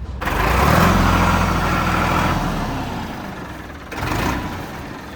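A Swaraj 855 tractor with a center gearbox and about 300 hours of use runs steadily, a loud, close, continuous engine rumble that eases slightly midway and then swells again near the end, with no talking.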